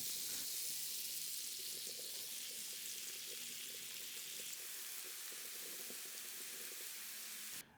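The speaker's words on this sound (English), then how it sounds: "add another tablespoon of butter, and brown up those diced mushrooms to perfection" Diced mushrooms browning in butter in a skillet give a steady, close hiss of sizzling that runs evenly throughout, with no voices.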